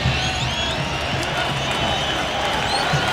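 A sold-out stadium crowd of nearly 25,000 at a 2005 USA vs Mexico World Cup qualifying soccer match keeps up a steady, distant roar of massed voices throughout.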